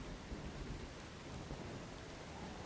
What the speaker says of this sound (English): It's raining all over the world tonight.